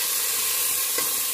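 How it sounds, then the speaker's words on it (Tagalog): Tomatoes sautéing in a pan for sinigang with lechon kawali, a steady close sizzle and hiss running throughout with no talk. "Yan, nagigisa na tayo. Unahin muna natin ang kamatis."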